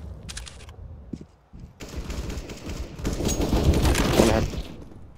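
Gunfire from the CS:GO video game, with sharp sniper-like reports and bursts of shots followed by louder, busier firing and impacts in the second half, no talk.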